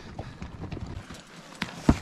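A horse's hooves clip-clop on a rocky mountain trail descending in wilderness, with uneven nearby thuds and clacks and a sharper knock near the end.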